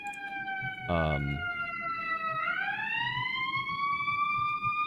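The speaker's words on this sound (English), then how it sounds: "If you can hear the sirens, it is quite loud." A steady wailing police siren with a long rising sweep, loud and close, briefly joined by a short burst of another tone partway through.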